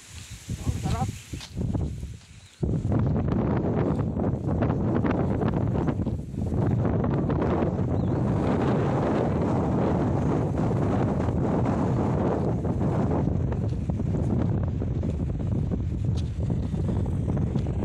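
Strong wind buffeting a microphone on a hilltop above a seaside town, a loud continuous roar after a few seconds of gustier rumble.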